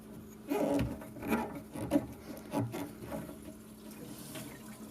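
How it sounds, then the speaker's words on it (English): Water rushing back through household pipes after the supply is turned back on at a newly fitted isolation valve, heard as a soft, uneven gush with a few rubbing knocks, fairly quiet and close. "You may even be able to hear it turning on there."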